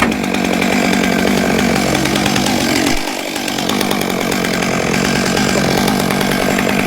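A chainsaw runs steadily at full throttle while clearing a road, loud and close with a dull chain. The engine drones continuously and dips briefly near the middle before picking back up.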